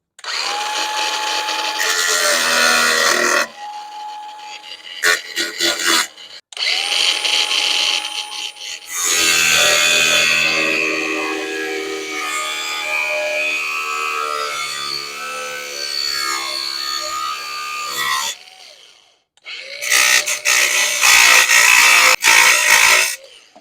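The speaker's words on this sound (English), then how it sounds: "So we're gonna go ahead and just try and grind the fat side of these off" A power grinder cuts off rivet heads on a 1941 Harley-Davidson Knucklehead, a loud, close, high-pitched whine in several long bursts with short pauses between them.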